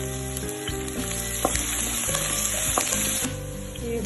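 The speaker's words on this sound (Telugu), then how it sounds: "శనగబేడలు, వేరుశనగ పప్పులు ఇది కొంచెం వేగనివ్వాలి" Chana dal and peanuts frying in hot oil, a steady loud sizzle and crackle running continuously with occasional stirring clicks.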